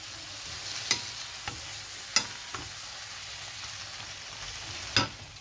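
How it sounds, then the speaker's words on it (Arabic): Chicken strips with peppers are stirred in a hot pan, a soft steady sizzle underneath with a few sharp utensil clicks scraping the pan at irregular intervals, fairly quiet and close. "هنفضل نقلب فيها لغاية لما تتشوح خالص"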